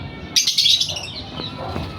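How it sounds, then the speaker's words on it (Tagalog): A captured bird of unknown species with long, scaly legs gives a short burst of loud, high chirping calls held close by, followed by fainter squawks. "may ibon tayong nakuha mga idol oh"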